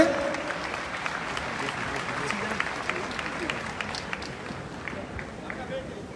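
Applause rises from a crowd gathered for a Vishwa Navkar Mahamantra Divas event, a fairly soft, continuous clatter of hands with scattered sharper claps and a faint murmur of voices beneath it.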